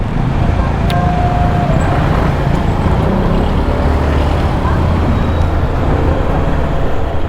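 Steady road traffic with cars and motorcycles, a constant broadband rumble of passing engines and tyres filling the whole stretch, close and loud with no clear gaps.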